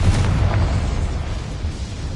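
Confringo blasting spell explosion from a wizard video game: a dense, booming burst that stays loud and rumbling across the whole short stretch, with no voices.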